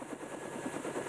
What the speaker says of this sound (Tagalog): Sakay ng helicopter si Mang Tony na siyang mag-uwi ng bangkay ng anak sa kanilang tahanan